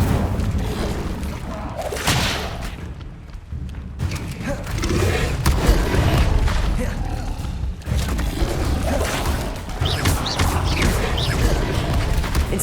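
Incendio fire spells cast in combat in Hogwarts Legacy on PS5, with loud booming bursts, thuds and crackling impacts in dense succession, mixed with other spell effects and brief spoken spell names.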